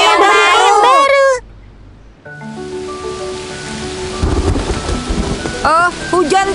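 Rain falls during a thunderstorm, starting after a brief silence as a building wash with low rumbling swells, while animated cartoon voices speak at the beginning and near the end.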